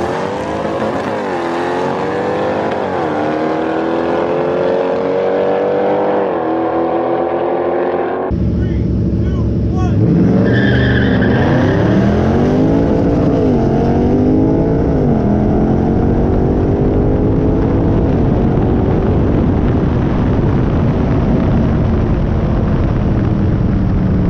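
Tuned Scat Pack cars in a street race rev their engines loudly and close by. The pitch rises and falls in waves, and a second, heavier engine roars in sharply partway through and keeps droning.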